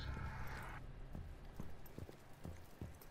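Horse hooves clip-clop in a steady rhythm of sharp, evenly spaced knocks inside the Rainbow Six Siege game, moderately close and continuing through the whole stretch over a low background hum.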